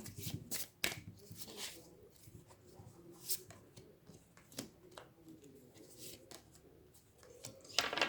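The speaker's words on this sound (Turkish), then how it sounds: "Ve diğer destemden sizin için de kart çekmek istiyorum." Tarot cards being shuffled and drawn from a deck, giving soft papery riffles and slaps in scattered bursts, close and fairly quiet, with no talking.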